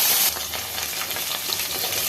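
Cumin seeds, cinnamon and cloves hit hot oil with a loud burst of sizzling. The sizzle settles into a steady, close crackle with light stirring. No one speaks.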